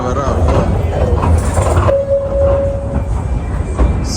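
Metro train noise rumbles steadily in an enclosed station in Istanbul, with a sustained tonal whine partway through and people talking over it.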